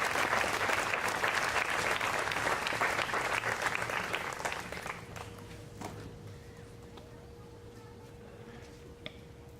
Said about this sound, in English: Let's all give them a nice round of applause for their financial support.